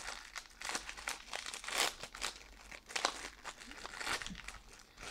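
Crinkling foil of a Yu-Gi-Oh booster pack being torn open, taken from a Yusei tin box; close, quiet crackles in irregular bursts without speech.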